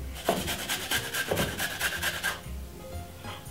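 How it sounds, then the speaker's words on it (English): Fresh ginger rubbed against a grater in rapid rhythmic rasping strokes for about two seconds, close and fairly loud, then stopping, with no voices. "Now I'm going to just simple grate the ginger like this."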